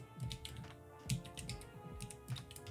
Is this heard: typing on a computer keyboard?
yes